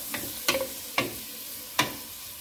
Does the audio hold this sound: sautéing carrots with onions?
yes